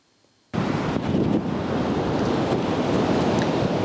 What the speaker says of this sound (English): the wind gusts are out here at 25 miles an hour, and we have huge waves coming in